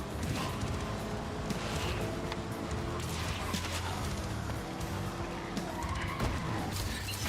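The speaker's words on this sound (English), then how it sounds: "Yeah, this car skids quite a lot." Car skidding in the video game Carmageddon: Rogue Shift, a loud continuous rush of tyre and engine noise with scraping bursts and impacts, sustained throughout with no talk over it.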